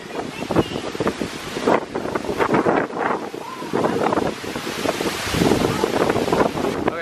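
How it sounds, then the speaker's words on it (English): Strong, gusting wind from Hurricane Ian's landfall buffets the microphone in loud, roaring waves that swell and ease across several seconds, with faint voices partly buried underneath. "It's gotten real windy now."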